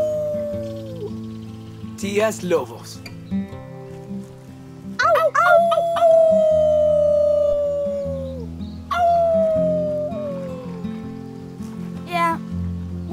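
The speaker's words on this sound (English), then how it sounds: "Let's start with our team howl." Characters in Life is Strange 2 let out a team howl together, several overlapping wavering cries that rise and slide down in bursts, with voices talking between them.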